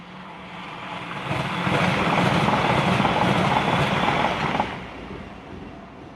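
A TransPennine class 397 train passes nearby: a broad rushing roar swells up, holds loud for about three seconds, then falls away quickly to a low background hum.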